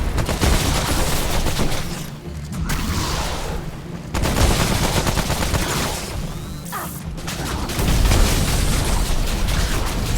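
Explosions and gunfire from a chaotic firefight in the video game Remnant: From the Ashes, with grenade blasts amid continuous loud shooting and booms, dense and close throughout.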